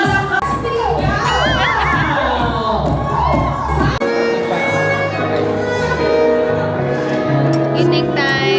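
Loud, dense cheering and shouting from a wedding crowd, many voices yelling at once, with high children's shrieks mixed in, continuous and close throughout.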